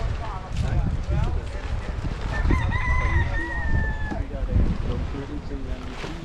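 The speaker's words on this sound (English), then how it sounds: "chicken. A little cocky." A chicken clucks and crows outdoors on a Bahamas island beach, loud and close, with a drawn-out tonal call in the middle over background chatter and ambient noise.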